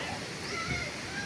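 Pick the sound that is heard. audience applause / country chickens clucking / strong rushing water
strong rushing water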